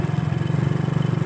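A small motorcycle engine putters at a steady, rapid pulse, close and fairly loud, heard alone for a brief moment.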